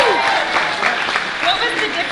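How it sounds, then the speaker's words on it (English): A studio audience breaks into steady applause for a TV series renewed for a second season, a dense wash of clapping with faint cheers under it and no voice over it. "we need to give a big round of applause"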